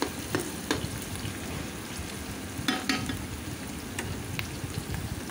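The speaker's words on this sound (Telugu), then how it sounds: "ఉల్లిపాయ ముక్కల్ని, అలాగే పచ్చిమిరకాయ ముక్కల్ని వేసుకొని బాగా ఫ్రై చేసుకోవాలండి" Chopped onions and green chilies fry in a pan for an Andhra-style fish curry, giving a steady close sizzle with scattered sharp pops and crackles throughout.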